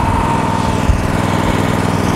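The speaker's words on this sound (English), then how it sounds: "Engine stays at idle, which is 2400 RPM." A loud, steady engine idle at 2400 RPM from a Miller Trailblazer 325 EFI welder generator, a fast, even putter, close by and unchanging, with no voices.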